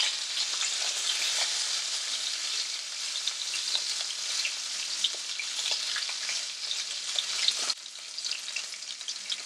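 A burger fries steadily on a stovetop, with a dense, continuous sizzle and scattered crackles and pops close up; no one speaks.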